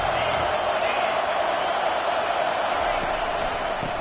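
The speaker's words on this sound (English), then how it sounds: "This crowd bringing the energy and noise early." A Notre Dame football stadium crowd makes a constant, loud roar that fills the background while a commentator talks over it.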